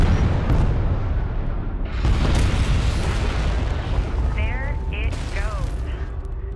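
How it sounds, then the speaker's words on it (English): Explosive charges detonate in the real-time strategy game Deserts of Kharak, a starship wreck being destroyed: deep booming rumbles swell loud and sustained, with a brief burst of speech near the end. "Pull back to a safe distance and initiate detonation."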